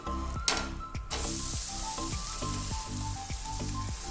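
An oats dosa sizzles on a hot pan right after being flipped. A few clanks come first, then a loud, steady hiss holds throughout over a regular ticking pulse in the background.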